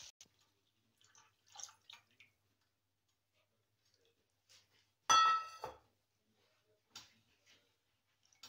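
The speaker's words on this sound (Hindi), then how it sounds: "अब इसमें दूध डालेंगे" Milk pours into a pan of roasted green peas for kheer in one loud, broad half-second splash, set among faint scattered kitchen clicks and taps in an otherwise quiet scene.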